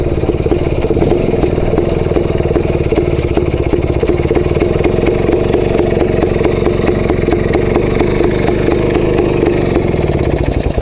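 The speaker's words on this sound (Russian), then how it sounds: "Настолько мощный двигатель, что у меня буксует сцепление." A powerful motorcycle engine with a slipping clutch revving hard, a loud, rough, clattering roar held continuously for about eleven seconds, close and unbroken with no speech.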